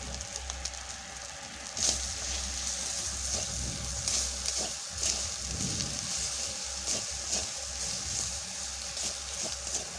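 Spices, turmeric powder and salt stirred in a hot pan for a Bengali chicken curry: a steady, moderately loud sizzle with soft scraping strokes throughout, no voices.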